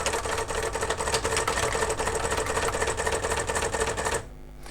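A Brother AX-15 electronic typewriter's print head travels with a busy, rapid mechanical whirring and ticking, close and steady for about four seconds before it stops abruptly into quiet hum.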